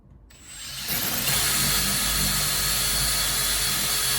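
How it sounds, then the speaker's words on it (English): A quarter-inch power drill spins up and bores a hole in a battery box, its steady high whining buzz rising quickly from near-silence and holding constant, close and loud. "here's an example of drilling one of the holes"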